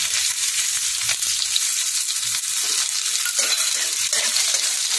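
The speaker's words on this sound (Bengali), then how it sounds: "পেঁয়াজটা একটুখানি হালকা বাদামি করে আমি একটু ভেজে নেব" Chopped onion frying in hot oil with whole spices, a steady close sizzle with light stirring scrapes throughout, no voices.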